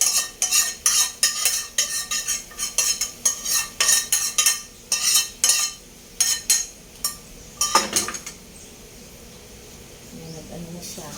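A spoon stirs and scrapes a polvoron mixture of rice flour and margarine in a pan, giving a steady run of close, rhythmic metallic clinks that stops near the end, leaving a faint hiss.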